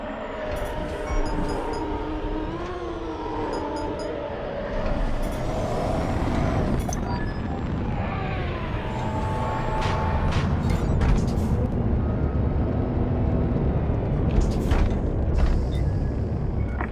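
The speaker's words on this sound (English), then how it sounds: "Throttle down below the Gazanti so its locks can engage." A starfighter docking beneath the Gazanti capital ship in Star Wars: Squadrons as its locks engage: a loud, steady mechanical rumble layered with wavering engine whines and gliding tones, punctuated by sharp metallic clanks and hissing bursts, with no voices.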